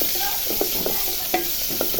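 Chili, garlic and chopped onion are tempered in hot oil in a pan, giving a steady close sizzle broken by several soft stirring scrapes.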